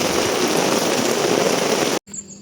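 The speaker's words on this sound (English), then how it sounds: "rain heavily." Heavy rain pours down on a rainforest campsite at Genting Sempah, a loud, steady, dense hiss of drops that cuts off abruptly near the end into a much quieter background.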